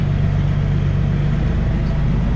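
A heavy logging truck engine running steadily up close while driving, with a deep, constant droning hum throughout.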